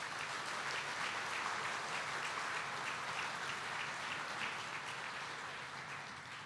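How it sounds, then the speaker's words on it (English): Sustained audience applause fills a hockey hall of fame induction evening honoring Vancouver Canucks alumni, a dense, steady wash of clapping from a large crowd that stays loud and tapers slightly at the end. "Give them all a round of applause"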